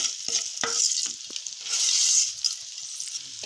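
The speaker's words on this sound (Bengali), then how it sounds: "এবার আমি চালটা 5-7 মিনিট ভেজে নেব।" Rice fries and is stirred in a pan for prawn and egg pulao, a steady close sizzle with repeated scraping strokes of the spoon throughout, no voices.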